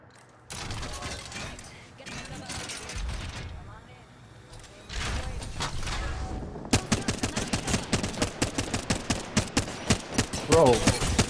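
Rapid automatic gunfire in the battle royale shooter Apex Legends, a dense burst of evenly spaced shots building to a sustained volley near the end, following earlier mechanical clatter and chaotic firefight noise, with players talking over it.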